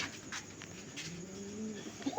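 Soft, low cooing from a male pigeon, a gentle throaty warble rising and falling for a couple of seconds against quiet background hiss, at night.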